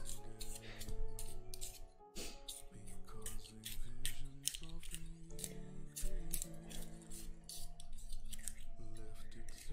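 A wooden pencil is sharpened by hand without a drill, producing a close, steady run of rhythmic scraping and grinding strokes with brief pauses between bursts.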